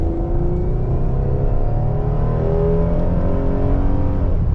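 A 2000-05 Chevy Impala sedan at 4,300 feet altitude launching hard from a standstill with traction control on, engine revving up steadily through first gear with rising pitch, loud and close, continuous with no talk.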